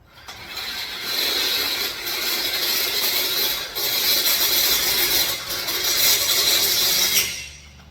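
A step drill bit bores through metal on a 2006 Ford F-250 short box flatbed build, giving a loud, continuous grinding whir with brief dips in pressure before winding down at the end.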